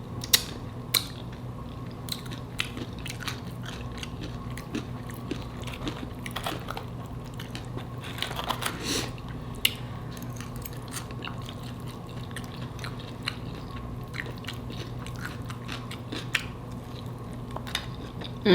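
Close chewing of a homemade steak taco bowl: a steady run of small, moist clicks and mouth sounds over a low, even background, with no talking.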